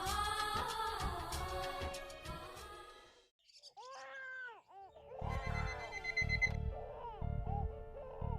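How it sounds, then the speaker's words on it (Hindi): An alarm clock rings in a home in the morning, a series of repeated electronic beeping tones pulsing in a steady rhythm, preceded by brighter tonal sounds and a brief pause. "सुबह सुबह 7 बजे का अलार्म क्यों लगा रखा है यार?"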